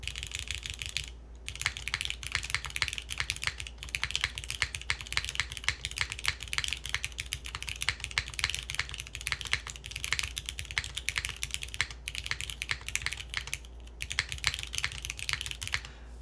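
Steady, brisk typing on a mechanical keyboard with lubed Cherry switches and GMK BRG keycaps, dense close-up clacks in a continuous run with a couple of short pauses and a low hum underneath.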